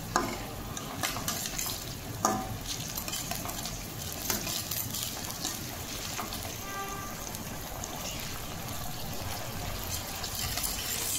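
Tomato sauce being stirred into a sizzling gravy in a pan for cabbage manchurian, continuous frying hiss with repeated scraping and wet sloshing of the spoon, close and without speech.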